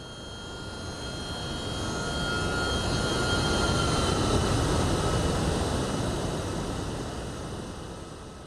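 Steady broadband jet roar of an MD-11 airliner climbing out after takeoff in the X-Plane 12 flight simulator, a constant engine rush that swells slightly and then eases, with no talking.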